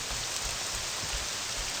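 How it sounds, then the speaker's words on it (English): Steady rainfall in the video game Morrowind, an even hiss of falling rain on surfaces with faint low patters, continuous and moderately loud with no talking over it. "Ah, it's raining here too."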